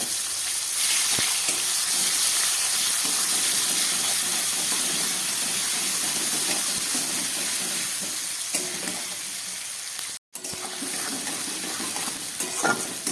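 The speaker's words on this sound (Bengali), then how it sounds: "পেঁয়াজটা হালকা ভাজা হয়ে গেল" Chopped onion fries in hot oil with cumin seeds and garam masala tempering, a steady, loud sizzle and hiss with occasional stirring sounds, continuous throughout with one brief dropout.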